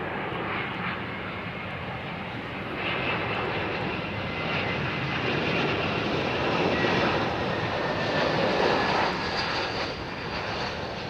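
Jet airliner arriving on runway 09L at London Heathrow, a loud sustained engine roar that swells and slowly fades over about eleven seconds, with no talk over it.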